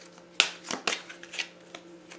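Oracle cards being drawn and handled from a deck during a reading, a few crisp papery flicks and slides, close and fairly quiet, with no talking.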